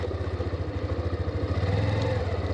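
A Hero Xtreme 125R motorcycle rolling downhill on an off-road track, its engine putting out a steady low throbbing pulse up close with a light mechanical clatter and no speech.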